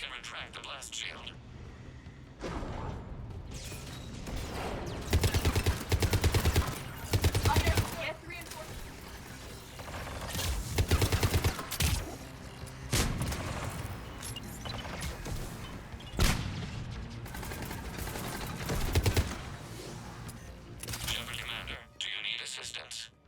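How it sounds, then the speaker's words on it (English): Battle gunfire in the Mass Effect 3 video game, dense bursts and sharp cracks of weapons fire with impacts and a busy mix of effects, running under voices talking throughout. "We are drawing hostile fire from your position."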